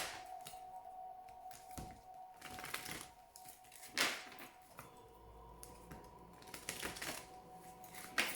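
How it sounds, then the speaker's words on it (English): Oracle cards are shuffled close up, producing quiet riffling and flicking bursts at an uneven pace with soft clicks between them, over a faint steady hum. "Please think of your question as I shuffle the cards."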